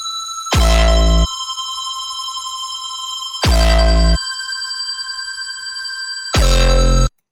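A synth sub bass holds notes while an arpeggiated counter melody plays over it, sounding as three loud bursts about three seconds apart over a faint sustained bell-like tone, with no voices.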